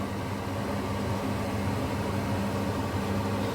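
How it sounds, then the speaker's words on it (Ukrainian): A kitchen range hood fan runs with a steady, even whoosh and low hum over cherry jam simmering on the stove, constant and close throughout. "Як ви помітили, шум, це працює витяжка."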